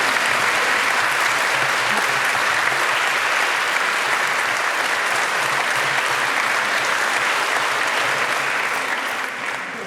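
A dense, even wave of audience clapping for an author at the Clameur(s) 2026 crime-novel award ceremony carries on steadily, then eases slightly at the very end.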